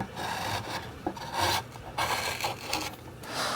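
A wood carving gouge cuts letters into a wooden board, giving close, continuous rasping scrapes in short strokes of varying pressure, without talk.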